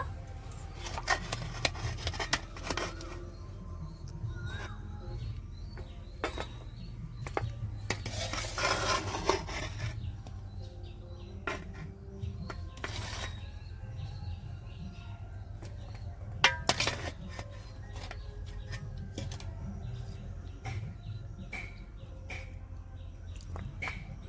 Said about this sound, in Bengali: এবারে এই চিনি রসের মধ্যে যে গজাগুলো দিয়েছি, এবারে এগুলো তুলে নেব।